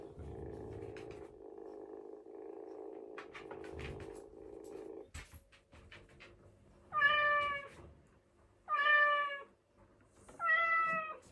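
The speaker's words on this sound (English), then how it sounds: "there will be different cat meows and purring sounds in response." A robotic toy cat responds to being stroked, first with a low, steady purring hum, then with three loud, clear electronic meows spaced a couple of seconds apart.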